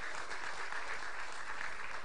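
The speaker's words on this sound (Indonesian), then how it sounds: "Tepuk tangan buat beliau." Steady crowd applause at a political declaration rally in Makassar, dense and continuous clapping throughout, fairly loud with no pauses.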